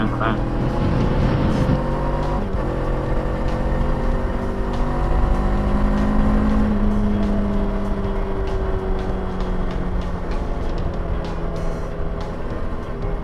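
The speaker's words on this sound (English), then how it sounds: "what I'm riding right now is a Honda CBR 500R" A Honda CBR 500R motorcycle runs steadily under its rider, the engine hum shifting in pitch with some wind noise, while a person talks over it for much of the time.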